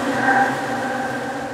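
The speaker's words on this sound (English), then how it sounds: "In this case, it was done by combining two droning elements, and it sounds like this." Two layered droning noise elements, built as a bed for video game combat music, form a dense, steady, sustained drone with a few faint tonal bands, heard alone and unchanging.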